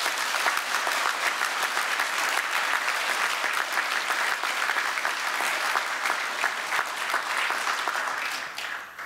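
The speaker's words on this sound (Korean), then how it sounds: "우리 사모에게 격려의 고마움의 강한 박수 보내십시다." A church congregation gives sustained, hearty applause at a pastor's retirement service, a dense steady roar of clapping that holds for several seconds before tapering off at the end.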